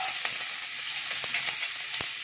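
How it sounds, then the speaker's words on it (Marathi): Onion with curry leaves being sautéed in a pan, a steady close hissing sizzle with occasional soft taps from stirring, no voices. "कांदा आणि कांदा गुलाबीच्या रंगावर परतून मऊ करून घेऊया"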